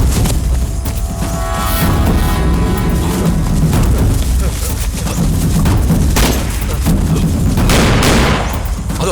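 Gunfire in a movie shootout, loud rapid bursts and booming shots over a dense, busy soundtrack, with voices heard in between.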